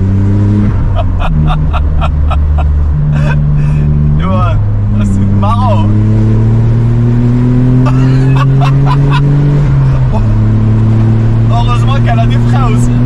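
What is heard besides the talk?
Smart car engine revving during test drive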